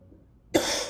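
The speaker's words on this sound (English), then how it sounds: "sorry about the coughing, I've had an illness the last few days" A single sharp cough bursts out after a quiet stretch, loud and close, with a rough breathy tail.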